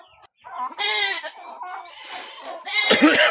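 A backyard goat that has just given birth bleats several times in strained, wavering calls, close and loud, with some chicken-like clucking mixed in.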